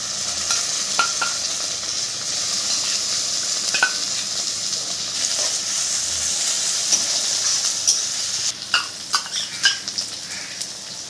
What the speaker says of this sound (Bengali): পেঁয়াজ ভাজা হয়ে গেছে লাল লাল করে, এবার আদা রসুন বাটা দিয়ে দিলাম।